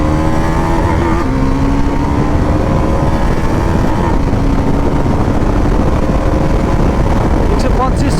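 A Bajaj Pulsar NS400Z 400cc motorcycle being ridden, its engine droning steadily and loud throughout with shifting pitch and a smeared rush of wind, while a voice talks over it.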